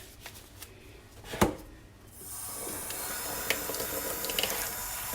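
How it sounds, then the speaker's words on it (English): A kitchen sink tap is turned on partway through, and steady running water fills the basin with a broad, continuous hiss that holds to the end, with a few clinks and handling sounds near the start. "I'm going to get my water going over here."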